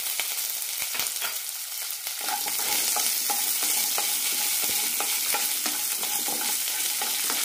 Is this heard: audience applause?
no